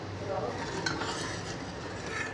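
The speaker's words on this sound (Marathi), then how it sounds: "याला छान सतत फिरवत फ्लोअर टाकल्यामुळे आपल्याला सतत हे हलवत राहावं लागणार आहे" A spoon steadily stirs a flour-thickened soup in a pot, a continuous soft scraping and swirling close by, with no talking.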